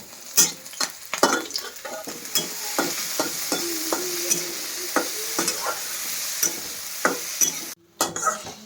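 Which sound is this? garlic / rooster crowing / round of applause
garlic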